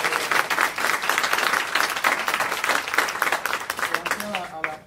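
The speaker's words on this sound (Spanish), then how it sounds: "Le damos un aplauso a Claudia." Audience applause for a guest speaker at a university talk on AIDS in Latin American literature, dense steady clapping from a room full of people lasting several seconds and fading slightly at the end.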